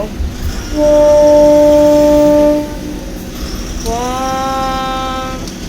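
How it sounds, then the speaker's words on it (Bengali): A loud, long train horn blast followed by a second, higher tonal horn sound, with a low rumble underneath as the train comes to a halt in the rain. "ট্রেন থেমে গেল"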